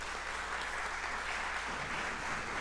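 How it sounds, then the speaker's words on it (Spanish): Audience applause at a forum with Costa Rican political representatives, soft even clapping from a seated group in a hall, heard at a distance and steady for the short stretch. "pido también un aplauso para ella"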